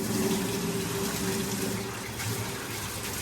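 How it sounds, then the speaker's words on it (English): Hot water pours steadily from a tap, a constant close hiss and splash without pauses or talking. "So I'm gonna go ahead and I'm gonna turn on the hot water."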